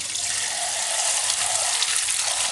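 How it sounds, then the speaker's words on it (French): Parts of a Kuvings B9400 juicer being rinsed under a running kitchen tap, a steady, loud, hissing rush of water throughout with no talking. "Donc on rince."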